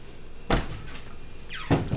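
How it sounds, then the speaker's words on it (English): A pantry door thuds shut twice, each close knock followed by a short creaky scrape of the dry hinges, no voices. "you can just close the door. Needs a little WD-40 maybe."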